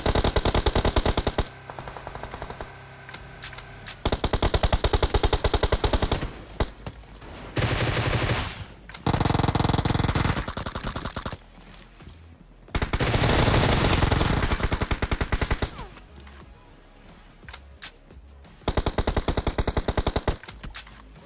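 Gunfire in a battle royale video game, rapid automatic bursts of several seconds each, loud and close, separated by short pauses and some softer sporadic shots.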